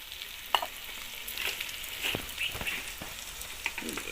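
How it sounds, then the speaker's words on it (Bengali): Chopped onion and garlic fry in hot oil with a close, steady sizzle full of crackles and sharp pops and a few stirring scrapes, with no voices. "তেলের মধ্যে আমি পেঁয়াজ কুচি দিয়ে দিলাম রসুন কুচি দিয়ে দিলাম"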